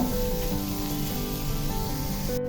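Chinese fried rice sizzling in a hot pan, a steady, close hiss of frying with a faint low hum underneath, unbroken for a couple of seconds with no voice.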